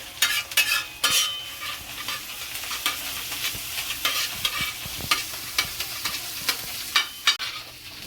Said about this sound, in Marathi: आपला कांदा व्यवस्थित परतून झालेला, भाजून झालेला आहे